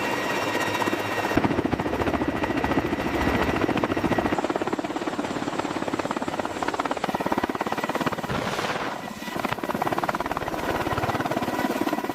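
A CH-53K King Stallion helicopter running loudly and steadily at a factory, its engine whine and rotor chop filling the whole stretch without pause.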